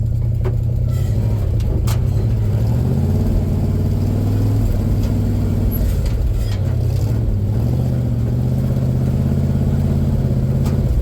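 A 1966 GMC pickup truck engine drives in low gear with a steady, loud, deep drone and slight shifts in pitch, close and continuous, with a few faint knocks and no talk.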